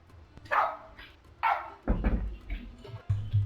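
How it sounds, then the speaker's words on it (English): A dog barks in the background, a few sharp, separated barks spaced roughly a second apart, with low murmuring beneath them. "dog barking in the background"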